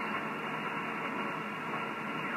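Steady hissing static on a ham radio band, constant and fairly faint, with no voices or tones breaking through.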